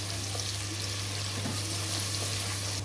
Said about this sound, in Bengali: পেঁয়াজগুলো ভালো করে মিক্স করে দিচ্ছি পেঁয়াজের সাথে, তেলের সাথে।